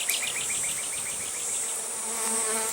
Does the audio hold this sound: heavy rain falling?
no